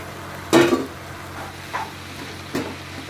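Pasta tumbles into a pan with turmeric and chili powder in a few short clattering bursts, with a soft sizzle following each pour, close by and without talking.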